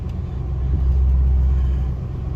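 A 2000 Chevy 2500 Express van engine idles after being cranked, a close, deep steady rumble that swells slightly and then holds even.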